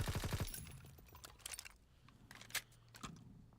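Rapid gunfire from a WW2 shooter video game: a quick burst of shots at the very start, then scattered sharper cracks and impacts, fairly faint, with no talking.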